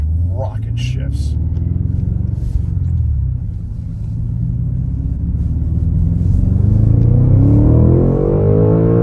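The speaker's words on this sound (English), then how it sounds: "So now we kind of get those rocket shifts." A BMW G99 M5 Touring accelerates hard from inside the cabin with a deep, loud engine rumble that climbs in pitch through quick gear changes, the revs dropping briefly at each shift before rising again.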